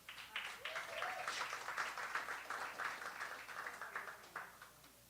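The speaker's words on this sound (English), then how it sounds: "Can we have a huge round of applause for Tyrone?" Audience at an open mic night applauding a performer, a soft, fairly distant round of clapping that swells and tapers over several seconds.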